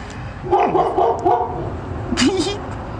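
A dog barks and yips in a few quick bursts at close range, mixed in with a person talking nearby.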